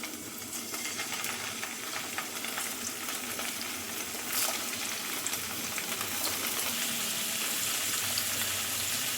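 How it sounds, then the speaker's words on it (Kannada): Large pieces of paneer sizzle in hot ghee in a pan, a steady, moderately loud crackling fry with occasional sharper pops and no voices. "ಇವಾಗ ಕಟ್ ಮಾಡಿ ಇಟ್ಕೊಂಡಿದ್ದ ಒಂದೊಂದೇ ಪನ್ನೀರನ್ನು ಹಾಕ್ಕೊಳ್ತಿದ್ದೀನಿ."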